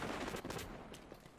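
Gunfire in a Destiny 2 Crucible match: a dense, continuous stream of shots that stays fairly quiet and distant throughout, with no voices.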